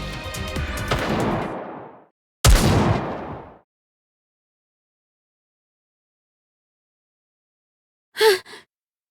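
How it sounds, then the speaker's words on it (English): Distant gunshots in an animated battle scene: two heavy booming blasts with long decaying tails, then a stretch of silence and a short pair of sharp pops near the end. "Those gunshots."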